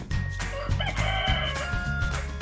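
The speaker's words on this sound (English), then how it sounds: "if I want him to sound like a chicken" The Dot robot plays a synthesized chicken sound, a rooster-like crowing and clucking call that runs for a couple of seconds at moderate loudness with no talking over it.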